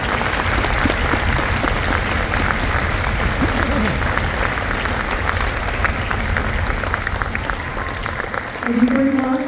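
Concert audience applauding a high school cellist at a spring music concert, a loud, sustained wash of clapping from a large crowd that carries on evenly, with a voice beginning to speak right at the end.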